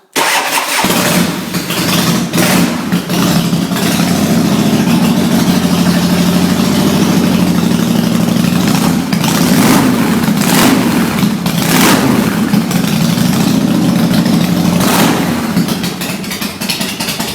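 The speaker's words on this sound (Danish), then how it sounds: "Der er jo også en Harley, det starter jo bare det lortet" A Harley-Davidson motorcycle on its first start-up, choke pulled, cranks briefly then catches and settles into a loud, steady, close-up idle with a lumpy low rumble and occasional blips of throttle.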